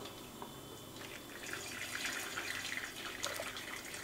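Vegetable stock being ladled out of a heavy pot of about 15 kilos, a steady wet sloshing and pouring close by that swells louder halfway through, with no talking.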